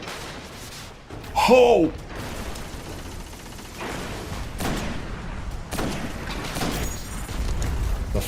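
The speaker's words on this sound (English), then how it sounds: "Ooh, the Goliath tank." Goliath tank firing in Destiny, a booming blast with mechanical rumble amid ongoing game combat noise, with a voice exclaiming briefly over it.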